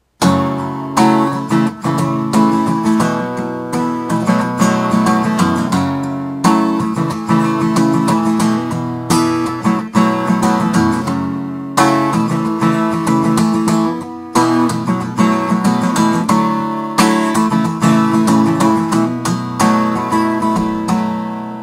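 Steady strummed acoustic guitar chords from the first verse of a song ring out in a continuous rhythm, changing chords every couple of seconds, full and upfront with no voices.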